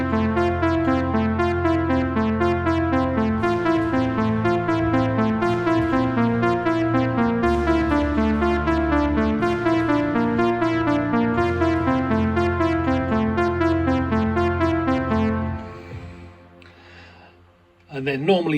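Nord Stage 3 keyboard plays the full chorus of a song, layered chords over a steady bass line in a continuous, even loud passage that fades out near the end, with no talking.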